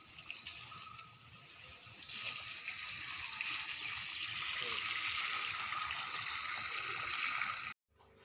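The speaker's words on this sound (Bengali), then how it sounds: "সেই গাছটায়ও জল দিচ্ছে।" Water poured onto a mango tree beside a neighbouring house splashes and trickles steadily and fairly close, a continuous wash of flow with a brief cut at the end.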